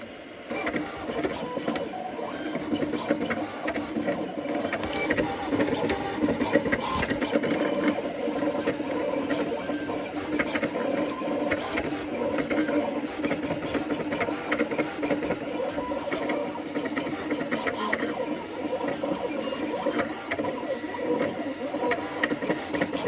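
A CNC machine cuts a Platform 1 sign for Lea Road station, giving a steady, loud mechanical whirring and rattling that runs unbroken throughout with no talking.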